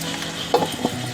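Spice masala being stirred in a pan while it fries, with a steady sizzle throughout and two short scraping strokes of the spoon near the middle, close and fairly quiet.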